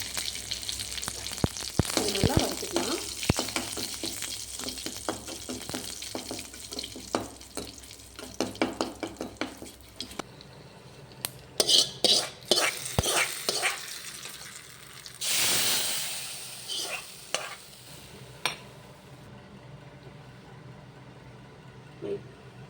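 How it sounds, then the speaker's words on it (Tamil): Mustard seeds, curry leaves and a dried chili sizzling and crackling in hot oil, with sharp popping bursts and a louder hiss midway, close and alone before fading. "கொஞ்சோண்டு கடுகு போட்டுக்கலாம் கொஞ்சோண்டு கருவேப்பிலை போட்டுக்கலாம் ஒரே ஒரு வரமிளகா போட்டுக்கலாம்"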